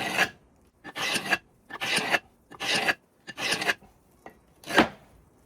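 Seven rough scraping strokes score a board, rasping across its hard surface, evenly paced with short pauses between, close and fairly loud.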